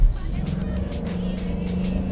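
A 2004 Maserati Cambiocorsa engine pulls hard under acceleration, a loud, continuous low drone heard from close by throughout.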